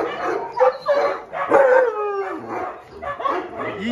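Several excited dogs at a mountain base yelp, whine and yip in overlapping bursts, close and lively, with a rising whimpering howl in the middle.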